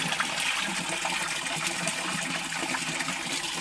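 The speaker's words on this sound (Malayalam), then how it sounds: "നല്ല വെള്ളം പിടിക്കാൻ വേണ്ടിയിട്ട് വെള്ളം പിടിച്ചുകൊണ്ടിരിക്കുകയാണ് കേട്ടോ" Tap water pours steadily into a container, a continuous rushing gush at close range with no talk.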